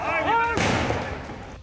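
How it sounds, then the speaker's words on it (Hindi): A single sharp gunshot fired by police during a street protest, a sudden loud crack that decays into noisy background after a brief whistling tone. "इस बीच एक बार फिर गोली चलने की आवाज सुनाई दी"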